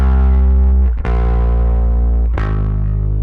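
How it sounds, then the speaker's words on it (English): Direct-input electric bass run through a Chris Lord-Alge amp simulation plugin, giving a loud, thick, distorted rock tone: sustained low notes with two sharp note changes and string attacks over a little more than three seconds, with no voices. "Here's the bass with that plugin on"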